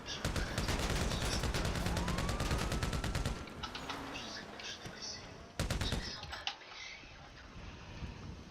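Rapid gunfire from RAGE multiplayer play, with dense bursts of automatic shots for the first few seconds, a short pause, then another burst, heard fairly close under faint voices.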